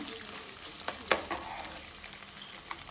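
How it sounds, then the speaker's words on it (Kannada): Chopped ginger frying in a pan, a steady faint sizzle with a few sharp crackles and spatters near the middle, no voices. "ಹಾಗೆ ಹೆಚ್ಚಿಟ್ಕೊಂಡಿರುವಂತಹ ಶುಂಠಿಯನ್ನು ಹಾಕ್ಕೊಳ್ತಾ ಇದ್ದೀನಿ"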